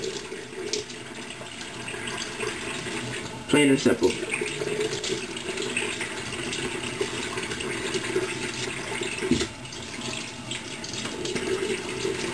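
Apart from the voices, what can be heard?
water poured from a cup onto the head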